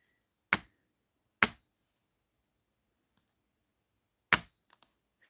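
A nylon gel hammer taps metal jewelry findings on a hard surface: three sharp, ringing clinks spaced apart, plus a few faint light clicks, close and alone without talk.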